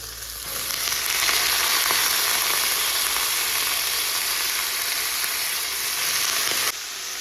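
Tomato and banana stem fry in a pan, giving a steady, loud, even sizzle that continues without pause.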